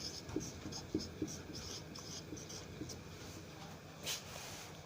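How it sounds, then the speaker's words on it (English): A pen scratches across paper as a classified ad for a flat is handwritten, soft close strokes with a few sharper ticks over a steady faint background hiss. "Any floor you can write, we'll write here 3rd floor."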